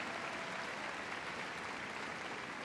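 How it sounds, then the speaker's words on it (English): A crowd at Crufts applauds an obedience display, steady dense clapping throughout, moderately distant and even in loudness with no voices standing out. "give them a huge round of applause"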